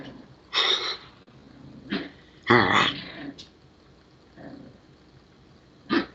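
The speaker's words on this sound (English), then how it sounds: "Listen to him growling." A playful dog growls in short, rough bursts while tugging at and tearing into a blanket on a chair indoors, several separate growls spaced across a few seconds, close and fairly loud with quiet gaps between.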